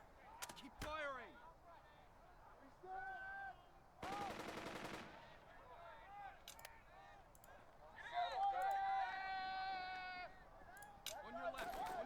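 Gunfire in the Burden of Command war game, sharp shots scattered across the clip with one dense burst of rapid fire, mixed with bleating-like squad chatter and other game effects.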